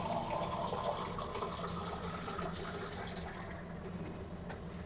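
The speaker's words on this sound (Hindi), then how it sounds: "तो हम लोग उसको उबालने के लिए बहुत सारे पानी डालेंगे और नमक डालेंगे।" Water pours steadily into a cooking pot to boil chickpeas for chole, a continuous gushing fill sound lasting throughout at moderate loudness with no talking.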